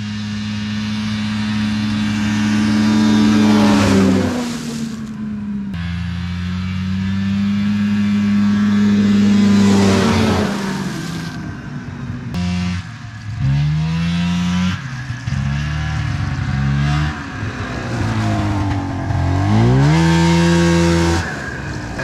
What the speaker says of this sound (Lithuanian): tai tą ir pabandysiu dabar